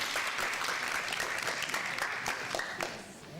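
An audience at a graduation ceremony claps in sustained, dense applause that stays steady and fairly loud before tapering slightly near the end, with no talking over it.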